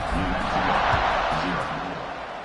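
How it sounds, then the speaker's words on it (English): A football stadium crowd buzzes after a score, a broad loud roar of cheering and chatter holding steady with a commentator's voice talking over it. "this crowd is buzzing after that last score"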